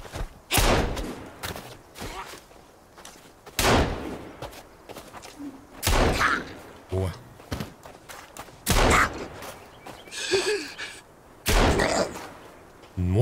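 Guns firing in a forest survival video game, with loud sharp shots in irregular bursts and short volleys spread across the stretch, some heavy thuds between them.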